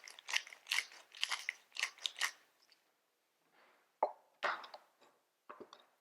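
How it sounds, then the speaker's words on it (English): Fresh black pepper being ground from a mill over a pot of butternut squash soup, a run of close, dry, ratcheting crunches in short bursts, with a brief pause before a few more twists. "we want to season with some fresh ground black pepper"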